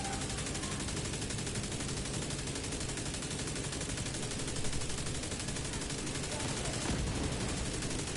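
Rapid, continuous gunfire from a video game gun, a dense unbroken stream of shots that fills the whole stretch at steady loudness with no pauses.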